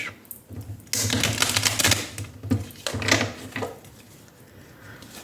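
A Lenormand tarot card deck is shuffled clumsily, making rapid papery riffling and flicking bursts in uneven clusters, close and fairly loud, with no voices.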